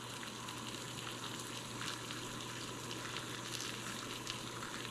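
Onions and steak frying in butter over an outdoor camp stove in winter, giving a steady, quiet sizzle with a soft crackle throughout and no voices.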